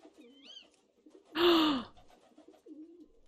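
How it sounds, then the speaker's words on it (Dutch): Cooing owl calls from a Harry Potter themed Minecraft game: soft warbling coos under a brief burst of louder noise, then a final coo, with no talking. "Uilen!"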